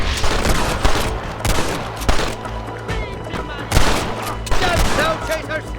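Rapid, uneven volleys of gunfire crack out in a Red Dead Redemption shootout as enemies fire from a clifftop, with sharp repeated shots over a busy battle din and voices shouting in between.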